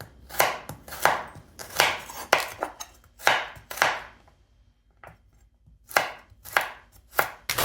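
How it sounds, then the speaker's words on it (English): A kitchen knife slices a peeled carrot into thin strips on a cutting board, rapid close rhythmic chops in bursts with a brief pause midway. "peel 1 carrot and slice it into thin strips."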